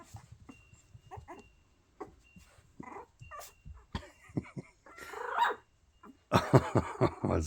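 A puppy barks in short yips and whimpers at irregular intervals, starting soft and growing louder and more insistent toward the end.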